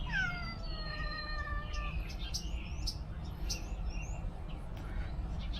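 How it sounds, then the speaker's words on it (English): A cat lets out one drawn-out, wavering meow nearby during a motorcycle oil change, followed by faint chirps and birdlike calls over a low background rumble. "That meowing is my cat."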